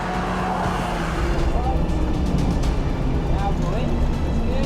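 Race car on a track braking hard and turning, a continuous engine roar with shifting pitch and faint tire noise, heard from inside with talk over it.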